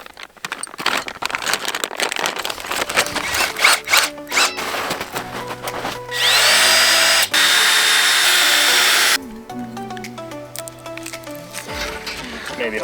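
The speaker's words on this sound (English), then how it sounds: "So I'm just going to start drilling holes, and we're going to start putting in taps." A power drill whirs in short bursts, drilling tap holes into maple trees, then runs steadily for a few seconds before stopping; handling noises and rustling surround it, close by.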